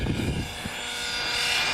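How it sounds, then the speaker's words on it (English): Gas-powered radio-controlled model helicopter flying at a model airfield, a steady loud buzzing engine drone with a rising whine, heard alone. "that's a gas helicopter, not electric"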